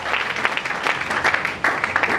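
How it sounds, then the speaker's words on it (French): A church congregation claps steadily together during a lively worship service. The dense, continuous applause sounds close and fills the room, with faint voices mixed in. "Acclamons très fort pour le Seigneur."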